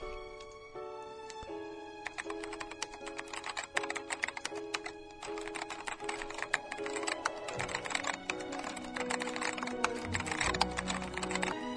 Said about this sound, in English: let me do some typing here